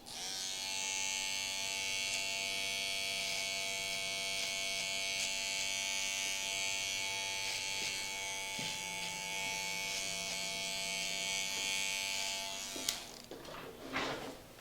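Electric clippers trimming and squaring off a beard, a steady close buzz running continuously for about thirteen seconds before cutting off into a few brief clicks and handling noises.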